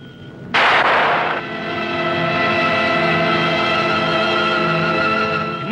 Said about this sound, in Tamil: என்ன சித்தப்பா துப்பாக்கி சத்தம் கேட்டது?